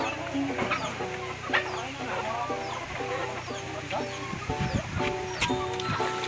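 Chickens and ducks on a rural farm in the province cluck in repeated short bursts, several birds close by, with occasional louder calls and faint voices in the background.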